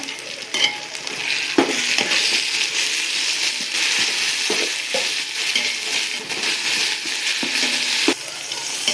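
Ginger garlic paste frying with onions for a Sunday biryani, stirred in a pan: a constant close sizzle with repeated scrapes and knocks of the spoon against the vessel, no talking.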